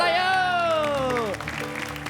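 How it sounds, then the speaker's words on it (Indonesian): Audience applause for contestants on an Indonesian TV comedy show breaks out as a brief clatter of clapping, following a sliding musical sound effect, with voices in the studio. "Yuk, tepuk tangan buat peserta yuk."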